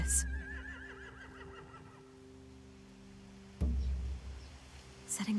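Horses whinny in The Walking Dead game, a wavering high neigh at the start followed by quieter snorting, with a sharp thump and brief noise bursts later over a low ambient hum.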